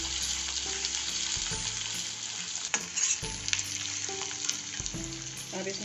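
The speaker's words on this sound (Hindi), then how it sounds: "प्याज को हम थोड़ा सा भून लेंगे।" Chopped onion fries with fennel seeds in a pan for Indori poha, a steady close sizzle with occasional stirring clinks and scrapes, no speech over it.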